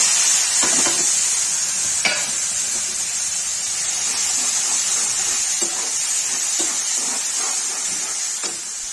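Hot oil hisses steadily in a pan as cumin and tomatoes go in for palak paneer, a constant sizzle with a few soft clicks and taps from the utensils throughout.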